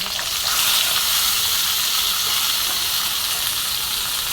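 Onion and tomato fry in oil with cumin for sambar, making a loud, continuous hissing sizzle that stays close and even throughout, with no voices.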